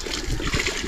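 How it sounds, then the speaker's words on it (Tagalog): Water gushes in a steady broadband rush from a hand-operated water pump, a continuous splashing flow lasting under a second with no talk. "Magaan lang bombahan. Lakas ng tubig."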